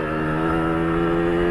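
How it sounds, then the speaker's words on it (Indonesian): A Yamaha RXZ motorcycle fitted with an underbelly racing exhaust holds a high rev, giving a loud, close, steady buzzing drone that runs unbroken for the whole moment. "Untuk suara knalpotnya kalau lagi di putaran atas"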